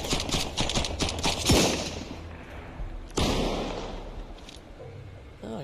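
Rapid bursts of gunfire in the video game Sunkenland crackle and boom in short volleys, with a couple of heavier blasts standing out against a busy background.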